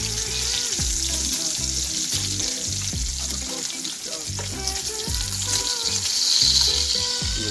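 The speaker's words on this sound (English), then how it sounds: "Now we do it with the bacon. We sizzle" Bacon sizzles and crackles steadily in a hot frying pan, a dense continuous spatter with no one speaking.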